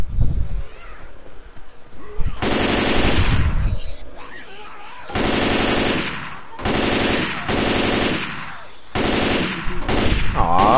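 Bursts of automatic gunfire in the shooter game Left 4 Dead 2, loud and close, coming in several sustained volleys separated by short pauses, with no voices.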